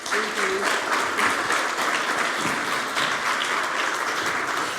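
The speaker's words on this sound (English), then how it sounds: "Please give it an applause." An audience at an innovation conference stage claps to close a panel discussion, a full, even wash of applause lasting several seconds without a break.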